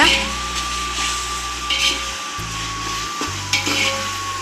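Ginger and garlic sautéing with spice powder in a pan for mutton biryani: a soft, close sizzle with scattered stirring scrapes over a steady low hum.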